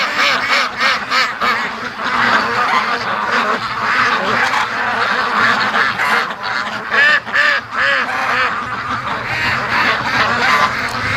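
Free-range ducks outdoors on a bright moonlit night keep up a loud, continuous chorus of overlapping quacks, a busy flock clamour with small rises and dips in volume.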